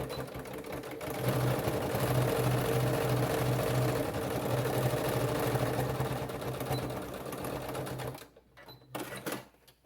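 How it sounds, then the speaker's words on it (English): Sewing machine top stitching the edge of a fabric heating pad to close the filling gap, running in a continuous loud mechanical whir for about seven seconds before stopping, followed by quieter handling sounds. "So you're basically just top stitching that edge, which closes the gap and keeps the filling in."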